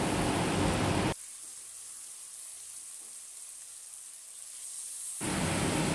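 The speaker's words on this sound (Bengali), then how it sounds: "সব কটা মাছ আমি কড়াইয়ের মধ্যে একটা একটা করে সাজিয়ে দেব।" Pomfret fish frying in hot oil in a wok, a steady broadband sizzle that is loud at the start, drops to a faint hiss for several seconds in the middle, then returns loud at the end.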